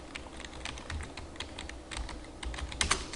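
Close typing on a computer keyboard while entering text, a steady run of quick, crisp key clicks at an even pace with a few firmer strikes near the end, and no voice.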